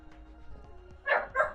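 A dog, called Mr. Barky, gives two short, fairly loud barks in quick succession near the end, following a stretch of quiet room tone.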